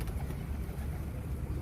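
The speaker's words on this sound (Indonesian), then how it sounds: "burung sedang makan" A flock of birds being fed corn, with soft pigeon-like cooing and fluttering mixed into a continuous low outdoor rumble, close and steady without talking.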